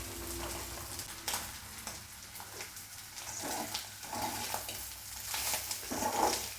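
Dried ribbon fish frying over a low flame, giving a steady soft sizzle with occasional louder crackles and stirring scrapes, close by and alone.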